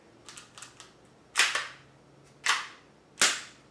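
A gas airsoft pistol, an imitation Glock, fires as its nearly empty magazine gives out: a few faint ticks, then three sharp cracking pops spaced about a second apart, each with a brief hissing tail.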